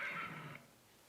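A horse neighs once from a played-back audio file, a bright, whinnying call that fades out after about half a second, leaving quiet room tone with no talk.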